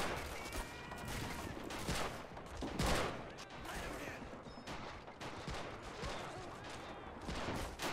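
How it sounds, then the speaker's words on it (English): Bursts of Browning Automatic Rifle fire mixed with wider battlefield gunfire in a Pacific beach assault in the Rising Sun mod game, a dense, continuous fusillade of rapid cracks and volleys lasting the whole stretch, loud and close. "BARs back here, providing fire."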